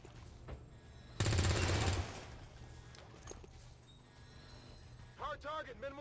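Rapid automatic gunfire in XCOM 2, a dense burst of about a second over a low background, followed by quieter clanks and a few brief electronic chirps.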